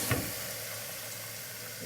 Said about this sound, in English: So this is water that's getting added to hot oil.